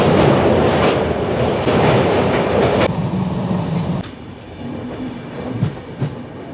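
Passenger train on the Howrah to Jagdalpur route, running along the tracks with a loud steady rumble and clickety-clack of wheels, heard from on board, the roar dropping and shifting partway through.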